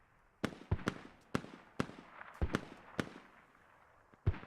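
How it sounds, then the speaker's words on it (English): Mortar and explosive fire in the military shooter Arma, a series of about nine sharp booming impacts at irregular intervals, some near and loud, others more distant, each trailing off into a rumbling decay. "mortar fire"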